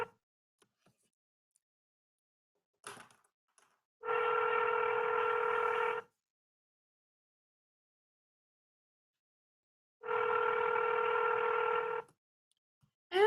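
A few telephone keypad tones as a phone number is entered, two steady two-second beeps with a brief click before them and silence between, no talking.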